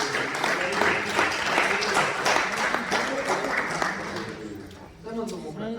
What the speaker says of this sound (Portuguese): Uma salva de palmas que louvam o nome do Senhor